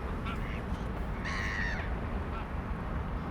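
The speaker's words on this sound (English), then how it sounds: "Norway birds." Norway bird calls from a sound effect library: a few short harsh caw-like calls rising over steady broadband outdoor noise, fairly distant and modest in level.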